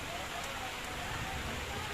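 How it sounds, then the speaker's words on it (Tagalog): Heavy rain pours during a storm in a steady, dense hiss that fills the whole moment without letup, moderately loud; no voices. "Oh, ayan, lakas ng ulan."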